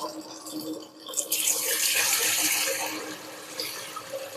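Washed rice being drained of its water in a home kitchen, a steady rushing, splashing pour that swells after a softer start and runs continuously at close range with no talking.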